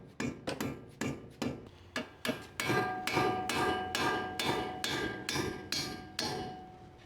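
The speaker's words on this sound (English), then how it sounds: "you should use a soft blow hammer here" A soft blow hammer strikes suspension bolt hardware during a coilover install on a Chevrolet Sonic, about fifteen sharp, ringing metallic blows in a steady, close rhythm, gradually speeding up.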